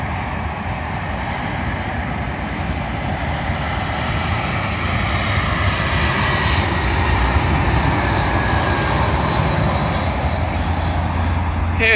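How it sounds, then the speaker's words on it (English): A British Airways Airbus A319 from Paris landing on runway 27L at London Heathrow, its jet engines a loud, steady roar that holds for the whole stretch with a broad, continuous rumble and no speech. "Arriving in now is a British Airways A319 from Charles de Gaulle in Paris, terminating here at London Heathrow Airport."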